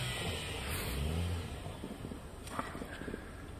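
A car pulling away on snowy ground, with a close, loud engine drone and a hissing rush that run steadily throughout and swell slightly early on.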